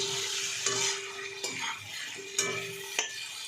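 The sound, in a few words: onions frying in a pan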